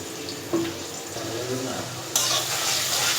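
Onion and salt frying in a pan for a village-style chicken curry with jackfruit seeds, a close continuous sizzle broken by scraping stirs and a sharp rise in hiss midway, with faint speech in the background.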